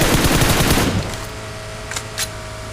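Rapid machine-gun fire in a multiplayer shooter game rattles loudly for about a second, then stops, leaving a faint hum and a couple of distant sharp pops.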